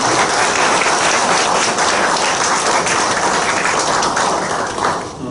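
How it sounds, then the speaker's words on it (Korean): A chapel congregation at Hanyang University applauding the choir, a loud, dense, sustained roar of clapping that fades slightly at the very end. "우리 성가대 우리 찬양하는 분들에게 감사의 박수 다시 한번 하겠습니다."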